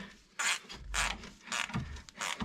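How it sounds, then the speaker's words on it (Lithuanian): A ratchet tightens a bolt during a car brake repair, making four quick bursts of dry clicking strokes separated by short pauses, close and fairly quiet. "Tada pasiėmė truputėlį pažangesnius įrankius ir prisukė su terkšlė."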